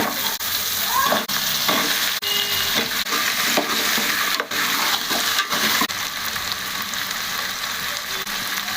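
Potato pieces frying in oil for vegetable pulao, a continuous close sizzle with spoon scrapes and stirring knocks, no talking.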